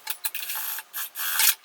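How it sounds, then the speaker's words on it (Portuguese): A sewing machine stitches a fabric flap onto the main panel of a small fabric wallet. It sounds as a close, scratchy run of short bursts and brief stops. "E vou passar uma costura aqui, ó, pregando a aba na parte principal."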